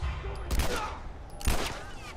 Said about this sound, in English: I shot another bullet then when I didn't need to